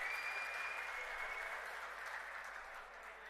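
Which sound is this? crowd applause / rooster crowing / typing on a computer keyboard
crowd applause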